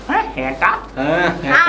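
A man imitates a dog, giving several short yapping barks in quick succession with his own voice, mixed with brief spoken words at close range.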